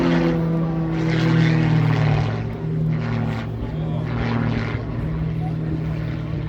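A propeller race plane roars steadily past at the Air Race Jasna event, loud and droning with rising and falling swells, while people talk over it.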